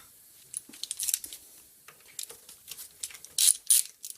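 A ratchet clicking in short irregular bursts as a wrench undoes the accessory belt tensioner lock nut on a Subaru EJ-series engine, close and crisp, with brief pauses between strokes and no voices.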